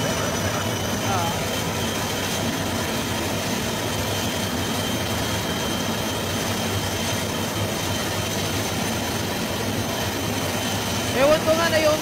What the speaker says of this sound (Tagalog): Ayun o, Philippine Air Force. Nakita niyo aeroplano natin yan.